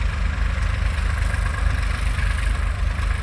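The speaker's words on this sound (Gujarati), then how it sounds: "આ બાજુ આ ટ્રેક્ટર છે ખાતર ભરતું જાય" A tractor engine idles steadily close by, a low continuous rumble with a fast even throb and no voices.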